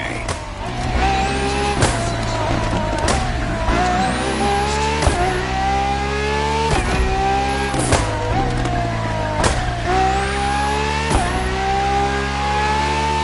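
A Ferrari FXX K tears around a track in The Crew Motorfest, its engine howling loud and sustained, rising in pitch with each gear before quick shifts, all in close, unbroken racing sound.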